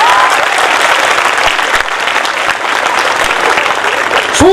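Loud, dense applause from a school audience at a Republic Day event, a steady wash of many hands clapping together throughout.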